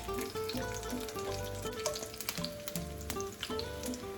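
Oil pops and sizzles in a pan over medium heat while preparing Mexican rice, refried beans and carne con chile, a continuous frying hiss with frequent sharp crackles, some faint clinks and a low background hum.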